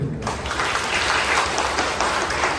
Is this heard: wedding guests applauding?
yes